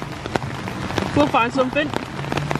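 Heavy rain comes down at Animal Kingdom, a dense hiss with sharp drips and splats nearby, as a person speaks a few words over it.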